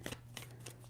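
Tarot cards riffled in a few quick shuffling bursts, close and fairly soft, over a steady low hum in a quiet room.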